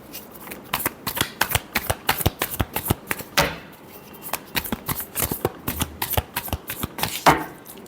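Tarot cards shuffled in rapid, crisp riffles and flicks, a steady run of close, fairly loud bursts with brief pauses between.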